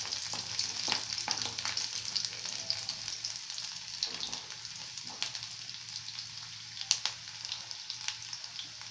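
Finely chopped white garlic frying in a pan for a Tamil cauliflower and egg scramble, giving a steady close sizzle with scattered pops and crackles throughout.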